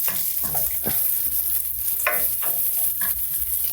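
Carrots sautéing in a hot pan as a side dish, an even bright sizzle with bursts of crackle and a few utensil scrapes, loud and close without any talk.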